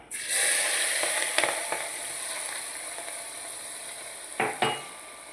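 Ginger, chili and garlic paste stirred into bottle gourd and chana dal frying in a pan, a steady loud sizzle with a few scraping clicks of the spoon against the pan.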